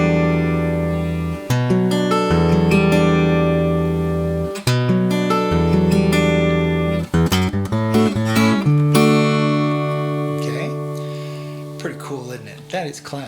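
Fingerpicked acoustic guitar playing a folk intro, ringing chords with a rhythmic bass pattern and walk-up changes, several clean plucked phrases, close and loud with no talking.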